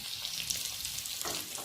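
Curry leaves, green chili and chopped ginger splutter in hot oil for a tempering for salted appam, a steady close crackling sizzle throughout with a brief stir near the end.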